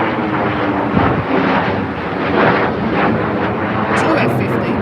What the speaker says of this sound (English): And we have an F-15 over us.